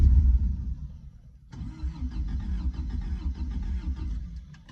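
A 1984 Toyota pickup's engine cranks for a moment, then catches and runs, settling into a steady, slightly rough idle at moderate volume.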